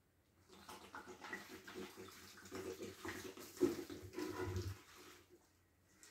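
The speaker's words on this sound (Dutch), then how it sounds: "Plus dat ze meteen het sproeisysteem aangaat." A misting spray system in a tropical rainforest terrarium switching on with lukewarm water, hissing spray rising after a moment, holding for several seconds and then fading out.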